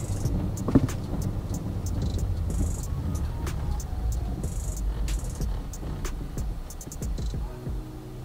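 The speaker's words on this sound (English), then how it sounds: "Y'all know my truck make a lot of noise." A noisy truck sits close by with a loud, steady low engine rumble, broken by sharp intermittent clicks, while insects chirr faintly in the background.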